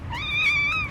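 A pet cat's drawn-out crying meow, loud and close, one plaintive wail under a second long.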